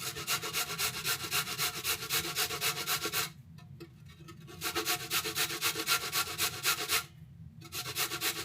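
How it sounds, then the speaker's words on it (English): A carrot is rubbed against a grater in fast, even rasping strokes, close and steady, with two brief pauses between bursts, and no talking. "So then I'll be grating the carrot here."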